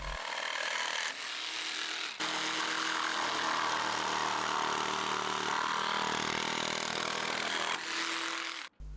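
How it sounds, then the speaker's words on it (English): Jigsaw fitted with a fine blade cutting roof gutter edge trim, a steady close buzzing rasp running several seconds with brief breaks near the start and end. "a fine blade in the jigsaw just whizzes through it very quickly"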